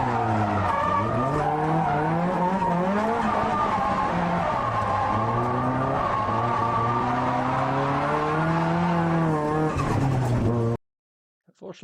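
Drift cars sliding around the course at Ebisu Drift Matsuri, engines wailing with rising and falling revs and continuous tire squeal, loud and close for about eleven seconds before cutting to near silence.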